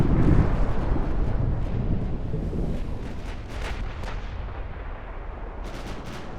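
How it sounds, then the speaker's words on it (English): Naval cruiser guns fire during a 1954 Ottoman campaign battle in the Ultimate Admiral Dreadnoughts warship game. A loud, heavy blast opens, then settles into a continuous rumbling roar with more distant shots rolling through. "Cruiser guns are not really hitting Cleveland."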